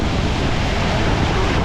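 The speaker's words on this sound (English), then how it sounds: "So it's noisy, the water's here, the breeze feels good." Steady, loud rush of water and wind noise aboard a boat near Bocas del Toro, Panama, filling the whole short stretch with no clear voices.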